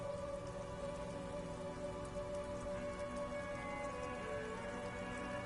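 Steady rain in a video game patters continuously under a low, constant hum with a faint tonal drone, even and unbroken.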